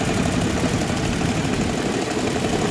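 An early-1900s veteran car on an ancestors' rally pulls away in first gear, its engine giving a continuous, dense low rumble at close range with no break.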